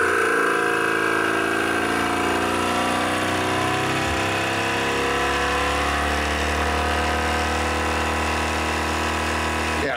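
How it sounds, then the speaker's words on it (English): A portable High Power Inclake tire inflator pump runs indoors inside a building with a steady, loud mechanical hum and drone throughout, fairly close and without any talking. "we'll turn on the pump and just listen to it run here inside the building"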